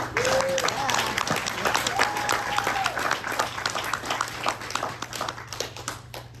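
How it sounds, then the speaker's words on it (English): An audience at a university conference applauds with steady, dense clapping and some cheering throughout, while a speaker's voice rises over it. "Let's hear a round of applause for ESU."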